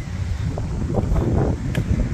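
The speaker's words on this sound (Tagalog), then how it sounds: "Ayan lakas pa ng hangin." Strong wind buffets the microphone in a continuous roaring gust, with no voices heard.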